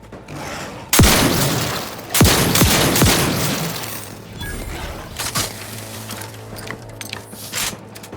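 Gunfire in the video game Outer Worlds 2: several sharp, loud shots ring out in separate bursts, each followed by a fading tail, then quieter scattered shots and clicks.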